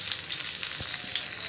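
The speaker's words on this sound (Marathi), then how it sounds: "दोन्ही साईडनं आपल्याला मस्तपैकी परतून घ्यायचं आहे छान" Stuffed bitter gourd fries in oil in a pan over medium heat, giving a steady, close hiss of sizzling with faint crackles throughout.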